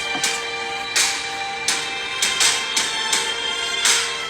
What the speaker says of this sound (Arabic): هاي صوت موسيقى الفوز